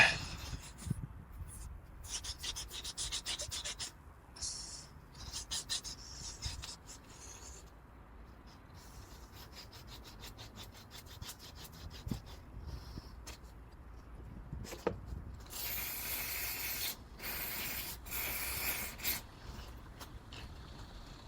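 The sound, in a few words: scrubbing with a Scotch-Brite pad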